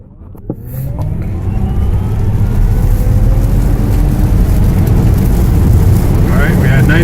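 A Tesla launches hard with an extra 250 horsepower engaged, hitting 0 to 60 in 2.8 seconds; a rising electric whine and building road and wind roar swell loudly from inside the cabin.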